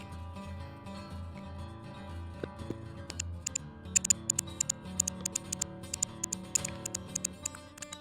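Strange clicking from a computer keyboard during play of the train game Railroads Online, sharp irregular ticks and taps in quick bursts over a low steady hum of game sound.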